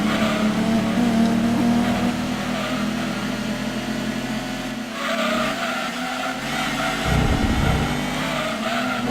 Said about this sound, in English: They got this engine sound that's pretty accurate.